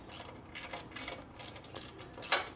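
Ratchet tightening motor mount bolts on a 1972 Harley-Davidson XL Ironhead Sportster, giving five or six short bursts of sharp metallic clicking at a steady rhythm, close and fairly loud with no talk.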